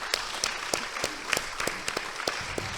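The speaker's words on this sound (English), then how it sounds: "Let's clap it up for each other." Attendees at a property investors' gathering clap for each other, a modest crowd with distinct, loosely spaced claps popping above a softer wash, moderately close and short-lived.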